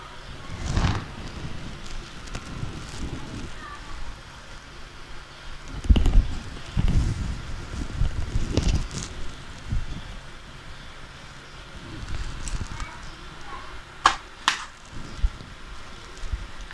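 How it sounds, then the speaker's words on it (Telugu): Paneer pieces frying in hot oil for restaurant-style chilli paneer give a steady, close crackling sizzle with a few louder popping bursts throughout. "వేసుకుని ఫ్రై చేసేసుకుందాము."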